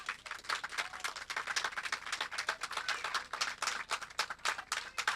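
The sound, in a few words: congregation clapping as an offering of applause to the Lord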